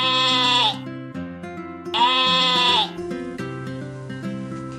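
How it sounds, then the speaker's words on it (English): A sheep bleats twice, each a loud wavering call under a second long, close by, over a light musical backing. "This is a sheep."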